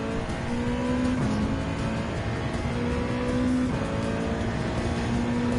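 A touring race car in Gran Turismo 7 on Trial Mountain, engine droning steadily at high revs with gear shifts, a faint tire squeal, loud and continuous with no talk.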